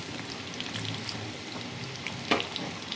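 Chicken pakoda deep frying in hot oil gives a soft, steady crackling sizzle with scattered small pops and one brief sharper spatter near the end, heard alone at low level.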